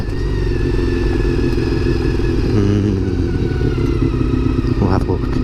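A road motorcycle rides along a rough track beside rocks and a parked car, its engine a loud, steady mid-pitched drone with clattering and wind rumble close up, while a rider talks over it.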